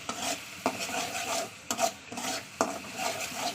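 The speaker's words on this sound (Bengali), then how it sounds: "মশলাটা সুন্দর করে কষাতে হবে" Masala being stirred and fried in oil in a pan, a close scraping stir with soft sizzling underneath and a few sharp utensil knocks against the pot, with no talk.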